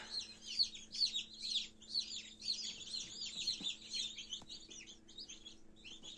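Chicken chicks hatching in an incubator peep in rapid, high, overlapping cheeps, fairly faint and continuous, with no talking.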